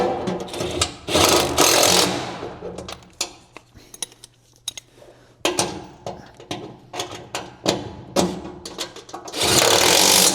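Seat bracket being bolted down inside a race car during a new seat install, with loud close metallic clanks, ratcheting and tool handling in sharp bursts and longer rattling stretches.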